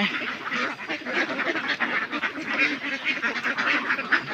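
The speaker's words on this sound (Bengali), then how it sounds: "প্রায় 400 হাঁস আছে।" A large flock of about 400 ducks quacking continuously, a dense overlapping chorus of many birds close by.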